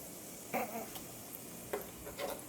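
Oreos frying in hot oil give a low steady sizzle, with a few brief louder bursts of stirring or turning near the start, middle and end.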